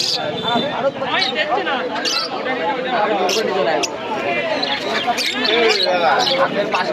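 Pigeons chirp and call close by over a constant murmur of market chatter at Santipur's pigeon market, with occasional fluttering and knocks.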